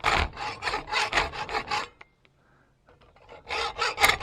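A hacksaw cuts a slot in a metal plate with brisk, rhythmic back-and-forth rasping strokes. The sawing stops for a short pause, then resumes close and loud.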